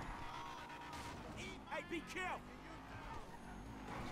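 A car in GTA V drives with an engine drone and briefly skids, tires squealing in short chirps midway, faint and under steady talk.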